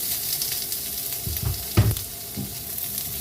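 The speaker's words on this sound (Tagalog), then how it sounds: "Maglagay na tayo ng konting mantika. Isa na natin itong sibuyas, bawang, at saka luya." Onion, garlic and ginger sizzle steadily in hot oil in a pan, with a few louder stirring scrapes and pops partway through; no one speaks.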